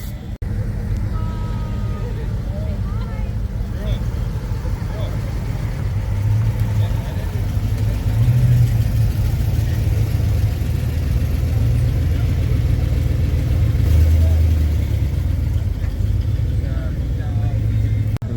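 A Ford F-250 truck rolls past at a pumpkin run car event, its engine a steady low rumble close by, while people talk over it.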